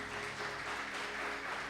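A church congregation applauds together, a steady dense wash of clapping that holds evenly for under two seconds, with a faint low hum beneath it.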